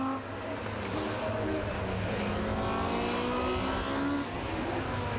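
Rallycross cars racing at Lydden Hill circuit, engines revving and changing pitch continuously as cars drive nearby, loud and sustained with overlapping engine tones.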